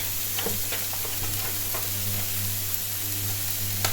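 Bacon lardons sizzle and spit in a hot pan, a continuous crackling fry with scattered pops and occasional stirring scrapes, steady and moderately quiet, with no speech over it.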